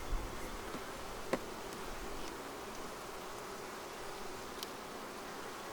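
A dense, steady hum of many honey bees buzzing together inside a packed hive, close and constant, with a few faint clicks and knocks.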